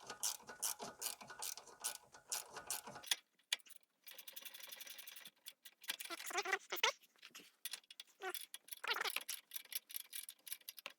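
A ratchet clicks in rapid bursts while tightening a stiff nylock nut onto a car's sway bar link, loud and close, with short pauses between runs of clicking.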